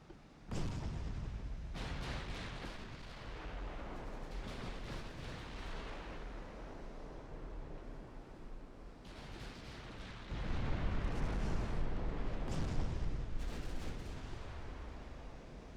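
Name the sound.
torpedoes hitting ships in a naval video game battle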